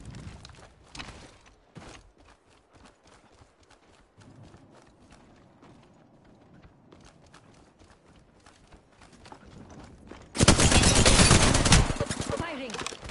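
Video game gunfire in Pecpex, heard as sparse rapid shots through most of the stretch, then a dense, loud burst near the end.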